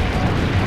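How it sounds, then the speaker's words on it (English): A short, loud, rumbling cannon blast in an Assassin's Creed game, dense and low, like a heavy cannon shot at close range. "Load the cannon."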